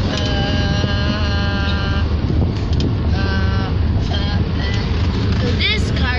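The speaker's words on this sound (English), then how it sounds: "So this car ride is so awesome." Steady interior road noise from a moving car, a low rumble with wind buffeting, while voices talk and exclaim over it throughout.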